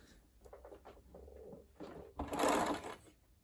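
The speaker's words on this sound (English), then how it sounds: "we're going to stay stitch that in position" A sewing machine stay-stitches fabric pieces for a Dolly school dress in a single short, loud burst of under a second, following soft handling noises.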